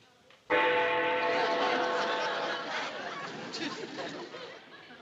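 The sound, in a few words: bell rung to call the maid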